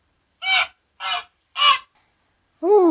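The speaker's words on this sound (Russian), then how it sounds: "Гусь." A goose honks four times, three evenly spaced nasal honks followed by a longer, more drawn-out call, loud and close with silence between.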